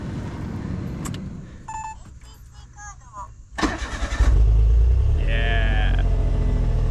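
Engine of an Autozam AZ-1 cranking and catching after a coolant refill, a short starter whir before the idle settles in loud and close, with a voice speaking over the early part and brief beeps.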